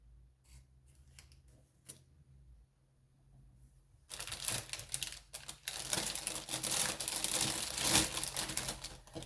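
Adhesive paper or craft material being folded and handled by hand: soft crinkles and taps at first, then a dense, louder run of crackling and rustling up close, with no talking.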